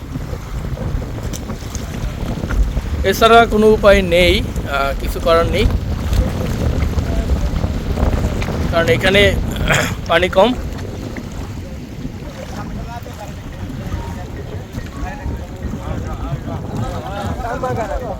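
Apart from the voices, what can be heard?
speed boat ride on water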